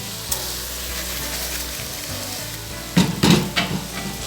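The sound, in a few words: rice being sautéed in grated tomato and onion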